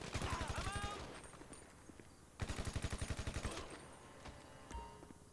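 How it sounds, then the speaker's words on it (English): Enemy gunfire in GTA Online, two rapid bursts of automatic shots, close and sharp, separated by a quieter gap with lighter scattered sounds. "now they're shooting at me"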